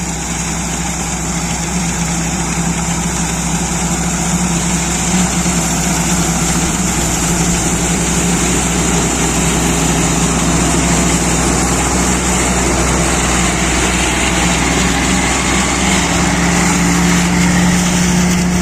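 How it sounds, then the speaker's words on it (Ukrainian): A Sampo 500 combine harvester engine drones steadily and loudly while threshing soybeans, a constant low mechanical rumble with no pauses or talk. "Вечоріє, продовжуємо далі молотити"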